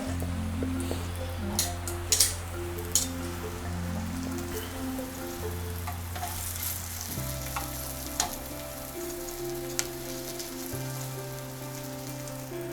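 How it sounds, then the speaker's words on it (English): Lentil logs frying in butter on the fire, a soft continuous sizzle and crackle with scattered pops, close and steady, with a low hum underneath. "So here we have the butter on the fire, and we just roll out each piece and let it fry."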